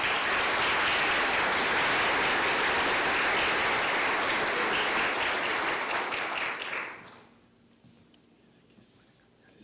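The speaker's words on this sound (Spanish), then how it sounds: "les ruego a todos, recibamos al maestro con un fuerte y caluroso aplauso" An indoor audience at a welcome ceremony gives a loud, sustained round of applause that fills the room for several seconds before fading out, followed by quiet murmuring.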